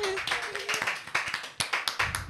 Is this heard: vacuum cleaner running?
no